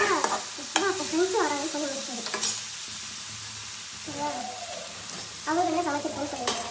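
Masala fries in a pan while being stirred, giving a continuous sizzle and scraping, with a voice talking over much of it.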